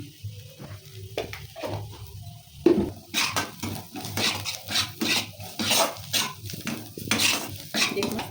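Onions with garlic, chili and coriander powder fry in a pan, soft sizzling beneath repeated scraping and clinking of a metal spoon against the pan, irregular stirring strokes growing busier partway through.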